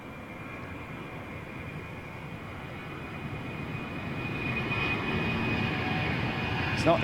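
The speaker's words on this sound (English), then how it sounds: "That's definitely RB211s." Airliner with Rolls-Royce RB211 jet engines at London Heathrow Airport, a steady broad engine roar with a thin high whine that swells gradually louder as the aircraft nears.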